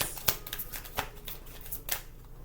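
Tarot cards shuffled and drawn during a reading, a close, soft papery riffling with a few sharper slaps of cards landing at irregular intervals, no voices.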